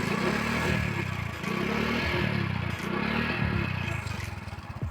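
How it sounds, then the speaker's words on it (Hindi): A stock commuter motorcycle idles close by, its single-cylinder engine chugging steadily with a light mechanical clatter and a few brief throttle blips, with no talking. "इस बाइक की जो नॉर्मल आवाज़ है वो एक बार शुरू करके सुना के दिखाऊंगा।"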